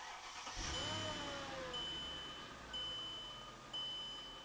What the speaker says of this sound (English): That one noise is disturbing me, like power steering noise. This one, whine.